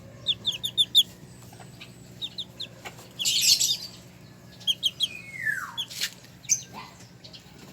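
Chickens in a small backyard poultry pen, with talisayin bantam hens among them, give repeated short clucks and chirps. A louder flurry of squawking breaks out midway, then a descending call, all fairly close with no talk.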